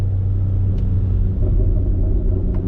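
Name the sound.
BMW X3M exhaust burbling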